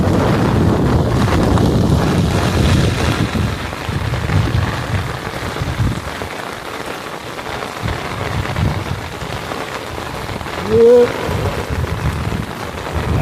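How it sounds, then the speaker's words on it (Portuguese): Heavy rain and gusting wind in the Brazilian sertão make a loud, steady roar and hiss with rumbling buffeting on the microphone, continuous throughout. "Chuva forte no sertão aí."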